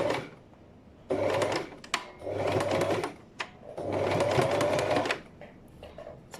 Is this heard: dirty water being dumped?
no